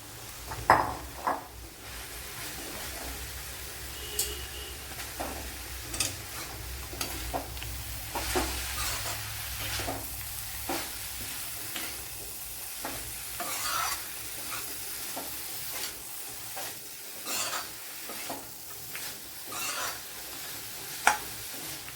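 Carrots stir-frying in a pan sizzle softly while a utensil scrapes and clinks against the pan at irregular moments, with no voices.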